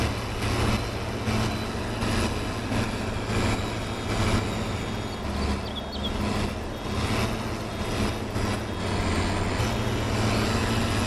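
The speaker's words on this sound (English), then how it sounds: "I'm just pulsing on the tractor engine." A tractor engine in a farming video game runs steadily with a continuous low rumble and a rhythmic pulsing in the throttle, loud and close throughout, with no talk.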